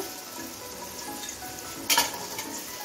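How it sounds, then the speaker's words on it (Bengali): Carrots and beans fry in oil in a pan on a low-to-medium flame, a steady soft sizzle running throughout, with a brief louder clatter of stirring near the two-second mark. "এখন আমি 2 মিনিটের মতো ভেজে নিচ্ছি গাজর আর বিনসটাকে।"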